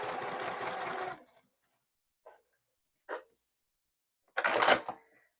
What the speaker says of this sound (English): In quilting, you're always working with a 1/4 inch seam allowance, and you do not back stitch.